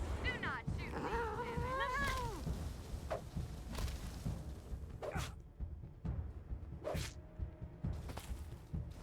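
Kittens meow in the Wasteland 3 video game, with several high, wavering mews over a rainy, muffled backdrop. Game dialogue is heard early on and is followed by sparse sharp clicks and hits.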